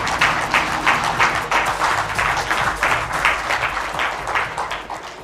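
A hall full of people applauds to welcome the Chief Minister at a Jharkhand Administrative Service Association function, with loud, dense clapping sustained throughout.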